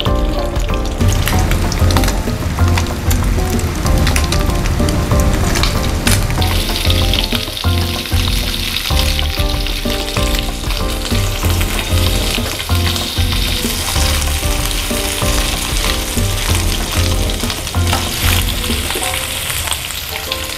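Spam and bacon frying in hot oil in a pan, a loud, continuous crackling sizzle with steady spitting and popping throughout.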